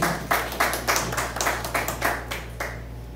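Scattered applause from an audience at a contest award ceremony for the second-place winner, about a dozen distinct claps falling in loose uneven bursts over a steady low hum, moderately close, before fading out near the end.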